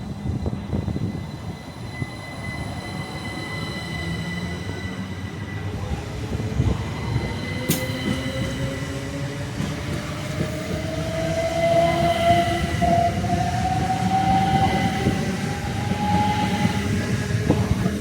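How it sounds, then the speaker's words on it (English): Inside a Southeastern passenger train running in Kent toward Ramsgate, a steady rumble of wheels on track with a rising electric motor whine as it accelerates and a brief clank, continuous and close. "So I'm now on the 10:50 Southeastern service to Ramsgate"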